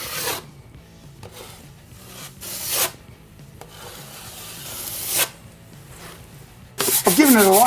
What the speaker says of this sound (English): I've given it a light sand, wiped it down with a damp cloth just to take the dust off.